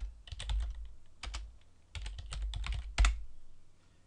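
Keys on a computer keyboard tapped in three quick bursts while a file name is typed for a Blender project save, close and clear with no talking.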